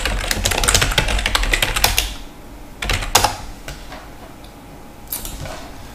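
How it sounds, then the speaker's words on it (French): Rapid clicking of a computer keyboard being typed on, dense bursts at first, then scattered keystrokes with pauses, fairly close and with no voices. "on entend le clavier de Jean-Claude"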